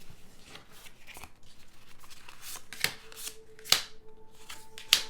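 A deck of tarot cards is shuffled close up: soft papery riffles and slides, with a few sharper snaps and card taps toward the end, quiet and alone.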